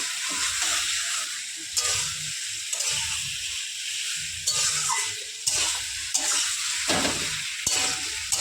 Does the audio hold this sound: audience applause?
no